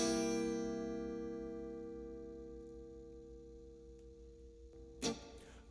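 A C seventh chord strummed once on a guitar in a beginner blues lesson, ringing out and slowly fading over several seconds, followed by a brief scrape near the end.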